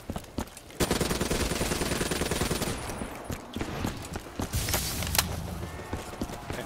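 Death Machine minigun fire in Call of Duty Black Ops 3 Zombies, rapid sustained bursts of close automatic shots with brief pauses, mixed with other game effects.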